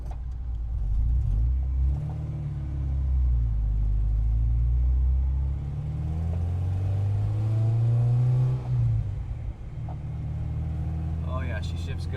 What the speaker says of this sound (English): So let's go ahead and take it for a test drive.